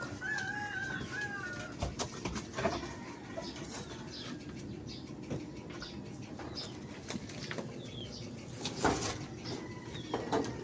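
Chickens near a house, clucking and squawking intermittently at close to moderate distance, with wing flapping and rustling amid outdoor background noise.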